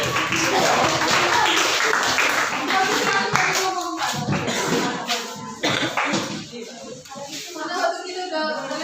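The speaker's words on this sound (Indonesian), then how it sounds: "Tepuk tangan untuk kelompok 4." A group claps hands in a burst of applause mixed with chatter and voices, the clapping uneven and fading in spots.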